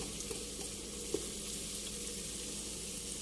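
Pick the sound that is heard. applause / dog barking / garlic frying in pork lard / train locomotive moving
garlic frying in pork lard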